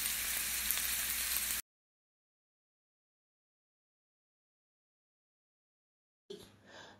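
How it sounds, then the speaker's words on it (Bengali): Puris deep-frying in hot oil, a steady broadband sizzle for about a second and a half, then silence, with a brief burst of sizzle returning near the end. "এইভাবে এবার সব কটা পুরিকি আমি ভেজে নেব।"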